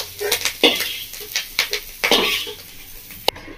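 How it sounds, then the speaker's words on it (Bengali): Prawns frying in a wok with clattering stirring strokes, a series of sharp scraping hits against a low sizzle, close and without talk. "ভালো করে ভেজে নিচ্ছি।"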